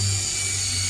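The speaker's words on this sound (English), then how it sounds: "I'm just gonna try to drill that out too" A steady, high-pitched power drill whine runs continuously close by, drilling out a stripped screw on a 1952 Chevy, with a low motor hum underneath and no talking.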